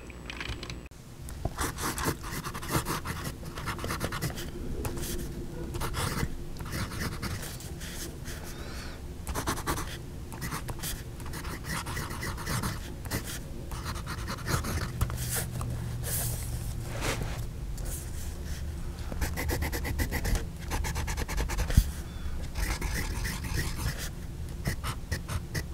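A Jinhao Zhuge Liang fountain pen nib writes on paper with bronze ink, making a continuous dry scratching as closely miked strokes start and stop in short, irregular runs, with no voices.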